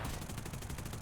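Rapid bursts of machine gun fire from a fighter plane in War Thunder, an aerial dogfight against a Spitfire, with a continuous rattling stream of shots under loud engine roar throughout.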